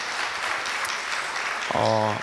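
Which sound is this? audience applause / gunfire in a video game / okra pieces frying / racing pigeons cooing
audience applause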